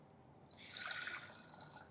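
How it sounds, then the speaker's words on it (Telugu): Water trickles and drips softly into ragi flour for ragi ambali, a faint, short pour heard close up in a quiet kitchen. "దీంట్లో కొన్ని వాటర్ వేసుకోండి"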